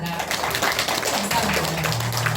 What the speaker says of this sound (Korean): 우리 모두 힘찬 박수로 응원하겠습니다